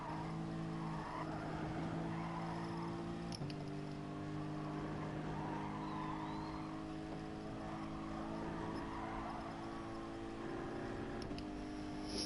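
Race car engine in the Gran Turismo racing game, a steady high-pitched drone held near the limiter with a brief shift or blip partway through, continuous and moderately loud.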